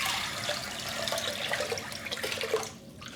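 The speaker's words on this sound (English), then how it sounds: "We add some water." Water pours steadily into a casserole of red beans while making Chinese sweet red bean baozi, a continuous close splashing rush that stops abruptly near the end.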